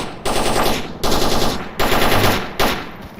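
Machine gun fire in the video game STALKER Anomaly, four loud sustained automatic bursts in quick succession, each a rapid rattle of shots with brief gaps between.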